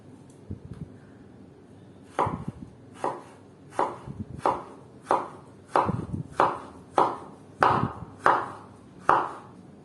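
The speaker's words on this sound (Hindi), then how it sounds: "अब हम टमाटर काटेंगे" Halved tomatoes being cut with a knife on a board in a home kitchen: a run of about a dozen crisp, evenly spaced chops, sparse at first then regular, close and moderately loud with no talking.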